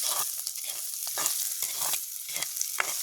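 Onion and garlic fry in a pan with a bright continuous sizzle, broken by repeated stirring scrapes at an uneven rhythm, close and moderately loud without any voices.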